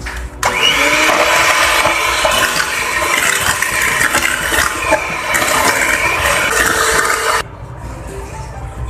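An electric mixer whisks eggs, sugar and vanilla, whirring steadily at close range for several seconds, then stops abruptly, leaving quiet background.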